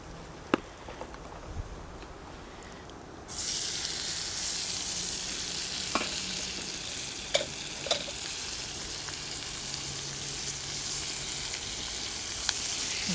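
Leftover potatoes warm in a pan on a camp stove during van camping. A quiet start gives way to a steady, loud sizzle that runs on, with occasional clicks and taps of utensils.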